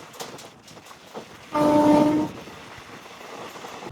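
A passenger train on the Guntakal to Markapur run sounds its horn in one loud sustained blast of under a second, rising over the steady rumble of the moving train.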